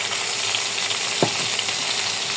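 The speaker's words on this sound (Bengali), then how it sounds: "এখন এই পর্যায়ে আমি দিয়ে দিব আলু" Potatoes going into a pan of frying chicken, with a steady loud sizzle throughout and a brief clink of utensil against the pan partway through; no one speaks.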